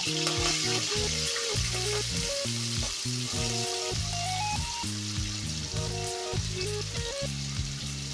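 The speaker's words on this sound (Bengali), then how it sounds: "আলু আর উচ্ছেটা প্রথমে একটু লাল করে ভেজে নেব" Potato and bitter gourd fry in hot oil with a steady background sizzle, largely overlaid by melodic music playing throughout.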